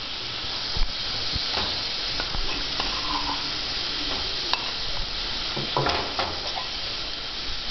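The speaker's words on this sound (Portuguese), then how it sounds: "tem que esperar fritar a cebola." Onion sizzling and frying in hot oil, a constant hiss with occasional stirring clicks, close up.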